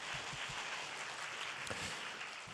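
Audience applause at a Korean college-admissions talk concert, a steady wash of many hands clapping at moderate distance, continuing throughout with a few brief louder bursts.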